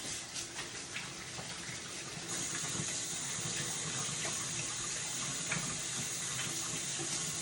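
Tap water runs into a kitchen sink during hand washing, a steady soft splashing that grows a little fuller partway through, faint and continuous, with no talking.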